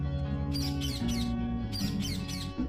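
Cartoon bird chirping in short bursts over a steady musical background, three quick chirps, a pause, then three more, bright and close.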